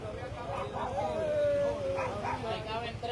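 A dog barks and whines during a nighttime police checkpoint operation in San Francisco, heard under steady talk and background noise.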